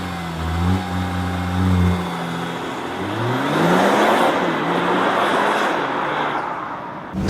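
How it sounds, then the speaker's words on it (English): A Porsche Macan compact SUV engine fires up with a rising rev, then settles into a steady, close idle hum that carries through to the end without talk. "so you have to put that here into that slot and then turn it to the right, and then the engine comes alive."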